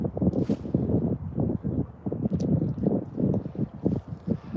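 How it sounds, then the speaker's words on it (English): Gusty wind buffets a nearby microphone in uneven low rumbling bursts, continuous throughout, while fishing for speckled trout. "I know it's windy, sorry."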